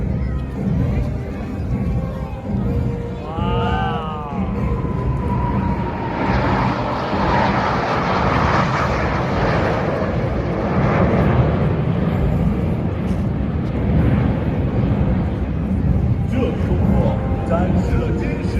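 A J-10 fighter jet flying a display at the Singapore Airshow 2020 swells into a loud, sustained roar that builds and lingers, with nearby spectators talking under it.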